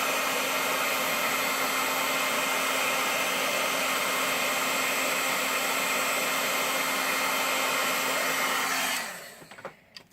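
A heat tool blows on a watercolor brush pen artwork with a loud, steady, hair-dryer-like whoosh for about nine seconds, then shuts off, leaving a few small handling clicks.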